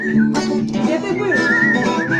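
A person whistles a melodic phrase over a busy backdrop of music and crowd sound, the pitched tone wavering and sliding.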